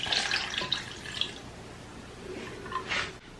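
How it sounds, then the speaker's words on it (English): A cup of water is poured into a blender jar over yogurt, a close, splashing trickle that rises and fades, with a few drips and no talk. "Add 1 cup of water."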